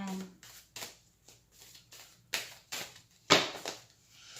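Tarot cards from two decks are shuffled in a series of quick, crisp riffling bursts with short pauses between them, close and fairly quiet.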